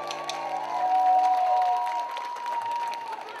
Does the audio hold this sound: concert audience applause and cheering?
yes